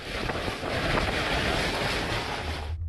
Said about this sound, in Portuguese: Esse meteorologista, na ilha de Sandal Bunch, se arriscou para tentar medir a velocidade do vento e marcou quase 200 km por hora